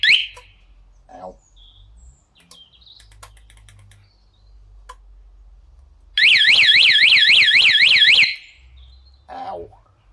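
A Sinnis motorcycle alarm goes off after its fob is fitted, giving a loud, close, rapidly warbling siren for about two seconds, with a few short chirps and quiet handling noises around it.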